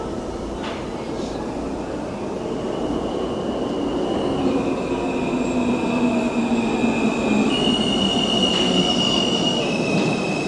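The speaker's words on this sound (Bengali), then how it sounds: "ট্রেনটা আসছে" An NYC subway train pulls into a station, a loud continuous rumble of wheels on rails building steadily, with high metallic squeals and brake whines drawn out over it, close by on the platform.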